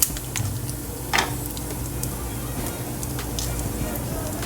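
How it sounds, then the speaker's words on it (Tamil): Cumin seeds sizzle in hot oil left in the pan for a South Indian egg pepper thokku, a soft continuous hiss with scattered light crackles and pops. "இதே எண்ணெயில் சீரகம் போட்டு தாளிச்சுக்கோங்க"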